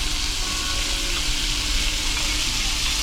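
Fried rice sizzles on a hot plate at Pepper Lunch, a continuous close, steady hiss of frying with soft background restaurant murmur.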